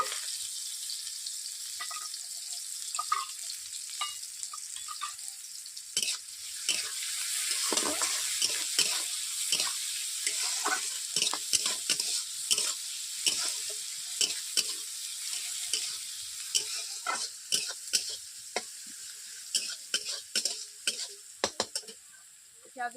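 Finely chopped onions fry in a pan as they turn brown, a steady close sizzle broken by frequent scraping stir strokes and light clinks of the spatula, lasting the whole stretch with no talk.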